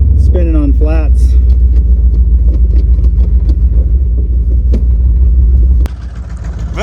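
A 1960 Ford Falcon Ranchero, revived after sitting for 20 years, runs in first gear with its wheels spinning on flat tires, giving a loud steady low engine rumble that drops abruptly near the end while voices talk over it.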